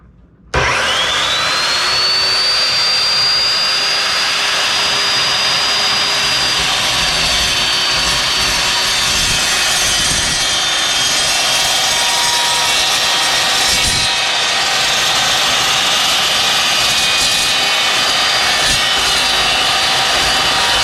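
An Evolution carbide-tipped cold saw cuts through metal with a loud, steady, high-pitched whine that holds from start to finish, close by with no one talking.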